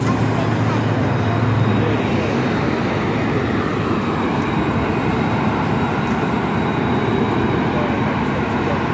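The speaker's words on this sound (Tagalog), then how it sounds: "Nandiyan na yung ating train" Steady broadband rumble of a commuter train rolling into an Adelaide station, with a continuous loud roar of wheels on rails filling the whole stretch and no pauses.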